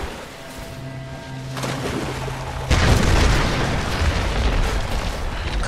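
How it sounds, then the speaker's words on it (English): A sudden loud boom from a Tomb Raider video game explosion erupts after a stretch of quiet tonal game music, then rumbles on as a dense roar. "Kaboom!"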